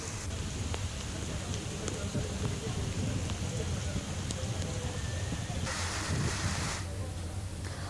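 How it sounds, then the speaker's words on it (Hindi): Light rain falls late at night as a dense, steady hiss of drops that stays even throughout, with a brief brighter swell of spatter partway through. "यहां देर रात से हल्की बारिश हो रही है।"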